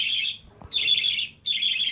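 Pet budgie squawking and chirping in three shrill, close bursts separated by short pauses, with faint low household noise underneath.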